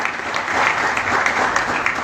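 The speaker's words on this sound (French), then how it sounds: "Des applaudissements s'il vous plaît pour lui" Audience applause at a gathering with Decathlon Morocco's director, a short stretch of dense, even clapping from many people, fairly loud and continuous.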